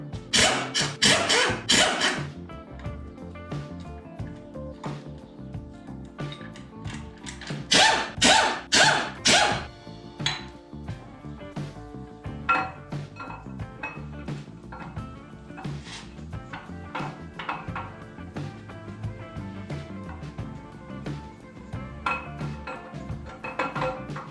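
Cam gear bolts come off a 6.0 LS engine with bursts of a tool's loud, rattling whir, followed by lighter metallic clicks and clinks of parts and tools nearby.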